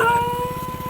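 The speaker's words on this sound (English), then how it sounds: "This dog always wants to bark and growl for a long period of" A dog at a construction site in Cambodia howls in a short, steady, wavering tone, close and fairly loud, with no talk.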